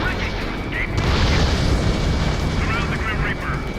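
Missile explosions and booming blasts in the Ace Combat 7 VR jet combat game, a dense continuous roar of rumbling detonations with bright bursts, loud and close throughout.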